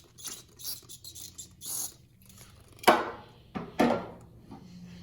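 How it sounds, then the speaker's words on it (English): A grinding automotive engine pulley on a car, turned by hand after brake cleaner has been sprayed on it, gives a few close, rough scraping bursts with short gritty scratches and pauses between them. "Ooh, I can hear it grinding."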